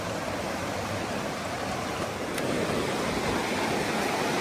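A strong river rushes past outdoors on a wilderness trail, giving a steady, dense roar of flowing water with no breaks and no voices.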